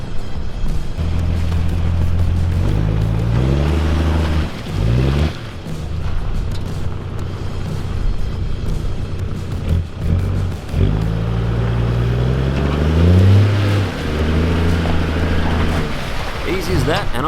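A Toyota Hilux engine drones low and steady during a snatch recovery, with several rising revs and pitch sweeps as it pulls, loud and close with heavy booming rumble, a voice calling out briefly over it.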